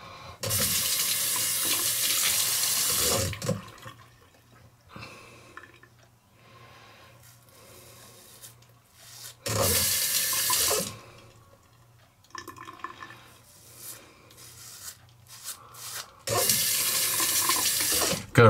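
Tap water runs loudly into a sink in three separate bursts as a Gillette Mach 3 razor is rinsed, with quieter dripping and handling sounds in the pauses between.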